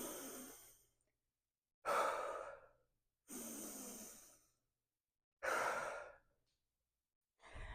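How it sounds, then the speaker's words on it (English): Four slow, deep breaths taken during a workout, each a long airy inhale-exhale lasting about a second, close to the microphone and separated by silence. "Take 3 deep breaths all together now."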